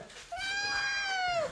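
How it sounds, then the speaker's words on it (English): A single drawn-out cat meow rises, holds for a moment and then falls away. It is clear and close, with a faint murmur of room noise behind it. "Shut up, cat."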